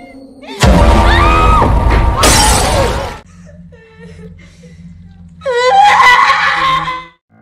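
Glass shatters as a hand strikes it in a scene from the 2022 horror film Smile, with a loud scream and crash, a quieter stretch, then another anguished scream.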